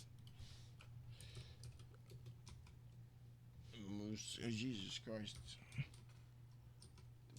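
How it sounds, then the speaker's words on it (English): Rapid clicking of computer keys runs throughout, quiet and close, with someone briefly speaking partway through over the typing. "what kind of typing is this?"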